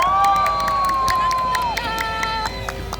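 A crowd at a candlelight protest rally cheers and claps for university students, a steady mass of applause with shouts and whistling voices over it, loud and close throughout.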